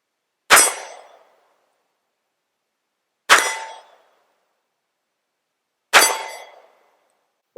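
A Taurus Defender 856 .38 Special revolver fires three sharp shots at an outdoor range, evenly spaced about three seconds apart, each a loud crack with a brief ringing decay into silence.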